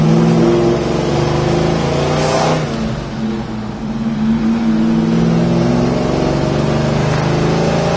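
A 1968 Chevrolet Chevelle's engine rumbles loudly and close as the car pulls away, with a rising rev, a brief dip in pitch, then a steady drone while driving.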